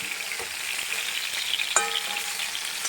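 A ladle turning stuffed eggplant curry as it fries in a pan: a soft continuous sizzle with light scraping, one sharper metallic clink near the middle, close and fairly quiet, no voices.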